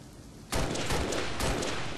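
DMR rifle gunfire in the video game Halo: Combat Evolved, loud and close. A sudden burst of shots breaks in after a quiet start and carries on dense and rapid to the end.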